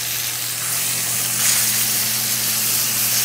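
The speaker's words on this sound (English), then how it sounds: "While they sear for a minute on that side," Pork chops searing in a hot pan, a steady broadband sizzle with soft hiss that swells slightly midway, close and continuous with no talking.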